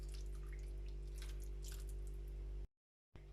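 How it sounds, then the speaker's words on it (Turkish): Water poured over an orman kebab dish, a soft trickling and dripping pour with faint splashes over a steady low hum, cut by a brief silence near the end. "Ve yemeğime suyu ilave ediyorum."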